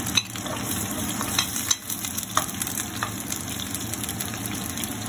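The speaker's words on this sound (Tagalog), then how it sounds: "Maghihisa po ako ng bawang." Garlic sautéing in a pan for sweet and sour shrimp, a steady close sizzle with occasional light stirring clicks and utensil taps throughout, no voices.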